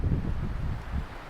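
Wind buffeting a winter campsite with a tent staked down by ice spikes, a steady low rumbling roar against the microphone with gusty swells throughout and no voices.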